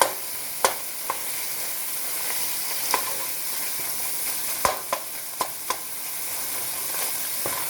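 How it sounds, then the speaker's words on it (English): Ground sirloin browning in a pan, a steady sizzle and hiss running throughout with occasional sharp clicks and scrapes of stirring, close and moderately loud, no voices. "so we've got our meat going. You just want to brown this up"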